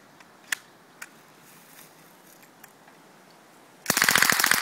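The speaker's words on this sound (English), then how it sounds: "SWD M11 9, LAG Slowfire upper, 22 cal Subcal kit, shooting 40 rounds of Federal bolt pack from Walmart." An SWD M11/9 with a LAGE Slowfire upper and .22 LR Subcal kit fires Federal bulk-pack rounds in a rapid, loud automatic burst of evenly spaced cracks after a few faint clicks and quiet handling sounds.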